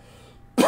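A single sharp, throaty cough from a live-stream host bursts in suddenly at the end after a near-silent stretch, close to the microphone.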